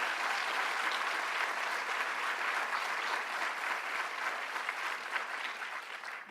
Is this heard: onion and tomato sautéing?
no